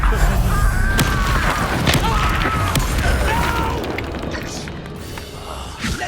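A Confringo blast curse goes off in Hogwarts Legacy, a few booming bursts thudding through busy spell effects, dense and loud from start to end with a voice speaking over it.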